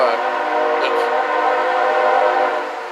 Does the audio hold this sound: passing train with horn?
yes